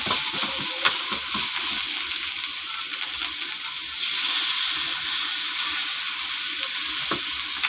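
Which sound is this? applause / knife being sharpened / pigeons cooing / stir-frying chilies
stir-frying chilies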